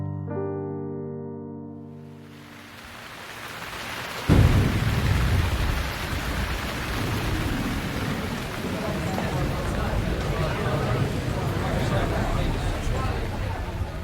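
Thunderstorm over La Crosse in summer: a sharp thunderclap cracks in after a few seconds, then heavy rain roars steadily with low rolling rumble, loud and continuous to the end.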